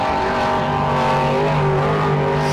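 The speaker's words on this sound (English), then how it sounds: "Sounds fantastic as he heads out towards the four-wheel parts rock section." An off-road race car heading out toward the rock section at King of the Hammers qualifying in 2019, its engine a loud, close, sustained roar with steady harmonic drone and slight pitch shifts.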